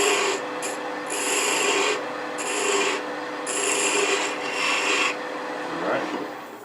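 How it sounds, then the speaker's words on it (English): Steady rasping strokes chamfer the end of a small piece of scrap wood, about six rhythmic back-and-forth rubs at close range, with brief pauses between them. "Chamfer the end just a little bit"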